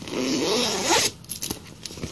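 A handbag's zipper pulled open in one steady run of about a second, followed by soft rustling and handling sounds as the bag is opened, close and with no talking.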